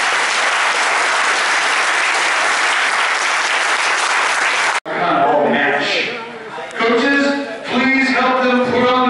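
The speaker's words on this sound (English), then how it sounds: "Give them a round of applause," Loud, dense applause fills a convention sword panel for about five seconds and then cuts off abruptly. Close-up talking and laughter from people near the microphone follow.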